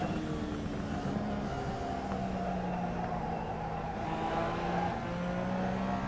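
A race car engine in a racing simulator game, heard as a steady, droning engine note that holds and shifts in pitch at moderate volume, continuous throughout with no speech.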